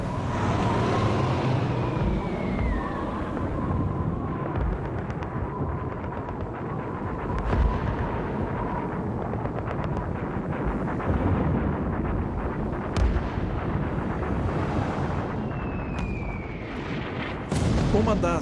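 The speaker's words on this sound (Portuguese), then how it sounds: "os canhões desencadeiam uma barreira de fogo" Heavy anti-aircraft fire from the battleship Tirpitz pounds in a rapid barrage against Lancaster bombers, booming and cracking continuously with loud blasts and a roaring background, under a voice speaking.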